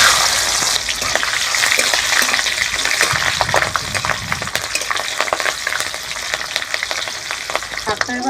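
Nigella seeds and slit green chillies sizzling in hot oil for tempering, with bay leaf and dried red chilli, a loud close crackling hiss that flares at the start and keeps up with sharp pops throughout.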